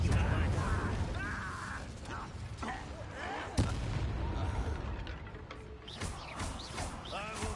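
A fire spell cast in Hogwarts Legacy bursts with a sharp boom amid layered game effects and rumbling, with a short crackling blast rising over busy background noise.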